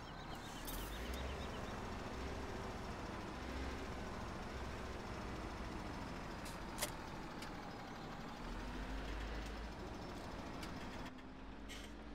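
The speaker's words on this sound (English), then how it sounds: "Go from one loud tractor to the next." A tractor engine in Farming Simulator 17 drones steadily throughout, a continuous low mechanical rumble at even volume with no voices.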